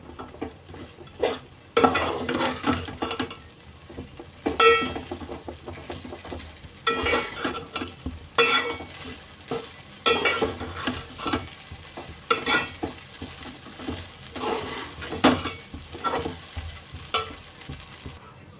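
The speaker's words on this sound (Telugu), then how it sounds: "కొంచెం వేయించుకొని పక్కకు పెడితే కొంచెం క్రిస్పీగా అవుతాయి అనమాట" Flattened rice (poha) fries in a pan until crisp for poha upma. Rhythmic spatula stirs and scrapes rise and fall over a continuous close sizzle for nearly twenty seconds, with occasional light utensil clinks and no speech.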